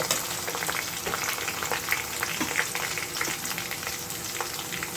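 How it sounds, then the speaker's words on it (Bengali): Onion and green chili frying in hot oil with garam masala for a braised beef-head curry, giving a steady, close, dense sizzle with faint crackles and stirring, no voices. "আমি তেলের মধ্যে পেঁয়াজ কাঁচামরিচ দিয়ে দিয়েছি, এটা এখন লাল লাল করে ভেজে নেব।"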